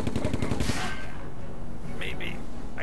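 Rapid gunfire in the turn-based tactics game Silent Storm, a fast burst of repeated shots followed by echoing decay and a couple of sharp mechanical clacks, with a voice speaking alongside.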